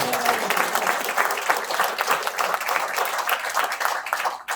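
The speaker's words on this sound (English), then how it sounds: "please give him another round of applause." An audience at a real estate company roadshow in Cape Town breaks into dense, steady clapping for a presenter, loud and close throughout before tapering off at the very end.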